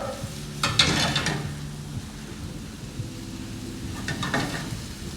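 Truffled mushrooms and jumbo shrimp sizzling in oil in a pan for pasta: a steady soft frying hiss with two louder bursts of crackle, no one speaking over it.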